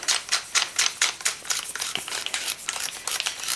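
Barrel of a TNW Aero Survival Rifle 9mm carbine being screwed in by hand, heard as a rapid series of close, dry metallic clicks and ratcheting scrapes.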